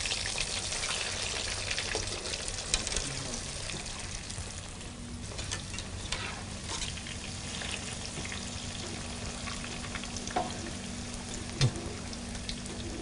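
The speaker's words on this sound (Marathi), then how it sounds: "हे बनवलेले क्विक मँगो डिलाइट रोल आता फ्राय करून घेऊया" Quick mango delight rolls wrapped in spring roll sheets and bread crumbs deep-frying in hot oil, a continuous close bubbling sizzle throughout with no voices.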